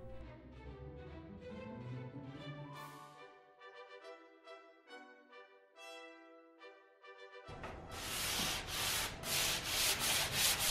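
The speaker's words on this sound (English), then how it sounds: "So I'm just doing a quick sand with a 220 here." Hand sanding on a Lane wood chest with 220-grit sandpaper, a dry scratchy rubbing that runs through, growing louder and rougher in steady strokes toward the end, with no talking.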